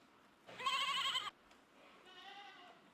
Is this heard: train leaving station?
no